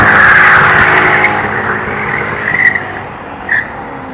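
Rear tires of a BMW E34 540 spin and squeal loudly over the engine's roar; the shriek is strongest at first, then eases off into shorter chirps.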